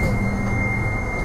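A Docklands Light Railway train heading toward Canary Wharf rumbles steadily from start to end, a close, continuous hum of wheels and motor with a thin constant whine above it.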